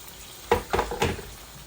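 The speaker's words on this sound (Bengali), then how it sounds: "এই মাড়োটা নরম হয়ে গেছে, আমি একটু পানি দিয়ে দিচ্ছি" Water splashes into a hot pan of Bengali marrow curry in three quick bursts, each hissing and sizzling briefly before settling into a quiet simmer.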